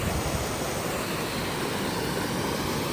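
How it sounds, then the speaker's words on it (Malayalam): Waterfall in the rainy Idukki hills of Kerala, a steady broadband roar of falling water, close and continuous with no voices or breaks. "ഈ വെള്ളച്ചാട്ടത്തിലാണ് ഞാൻ പോയി നിന്നത്."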